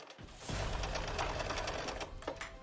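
A sewing machine stitches the layers of a fabric face mask, its motor whirring in a steady close buzz after a brief start.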